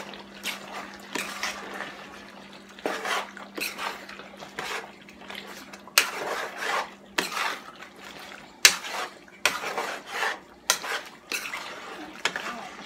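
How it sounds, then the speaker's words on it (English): Chicken and pork curry with potatoes and carrots simmers down into a thick gravy in a pot, with repeated clinks of a utensil against the pot, stirring scrapes and bubbling, close and fairly loud, with a little background speech. "So now the curry is cooking down and it's getting like a thick gravy to it."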